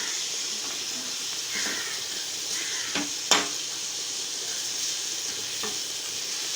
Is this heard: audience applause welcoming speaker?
no